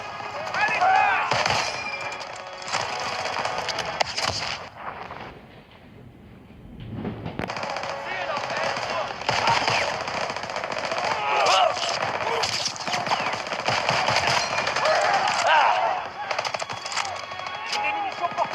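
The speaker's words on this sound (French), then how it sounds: "Ces mitrailleuses nous taillent en pièces!" Dense, loud machine gun fire in a Call of Duty WWII battle, bursts rattling almost continuously with brief pauses, blended with explosions and shouted voices in French.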